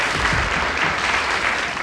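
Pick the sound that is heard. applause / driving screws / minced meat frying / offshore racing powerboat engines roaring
applause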